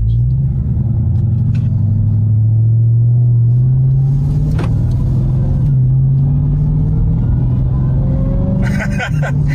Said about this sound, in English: you hear that supercharger?